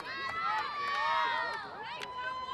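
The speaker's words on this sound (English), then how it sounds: "her teammates are cheering her on" High-pitched girls' voices cheer and shriek in overlapping bursts after a lacrosse goal in a high school playoff game, close and lively throughout.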